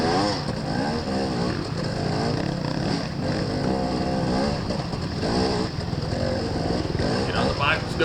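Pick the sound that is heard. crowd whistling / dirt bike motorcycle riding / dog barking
dirt bike motorcycle riding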